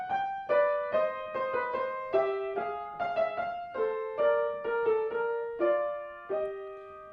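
Two interlocking voices of a Bach fugue duet play together in canonic imitation, a steady stream of clear plucked or struck notes moving in parallel lines, close and alone without talk.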